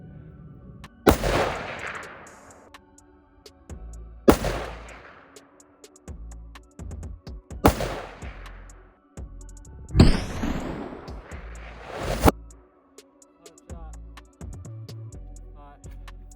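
An Aero Precision AR rifle fires at a 100-meter range, several loud, sharp reports spaced a few seconds apart, each with a long echoing decay, between quieter handling noises.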